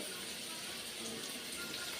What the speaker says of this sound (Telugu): నేను పిండుతున్నాను ఇది చూసి ఒకసారి చూడండి ఎంత వాటర్ వస్తుందో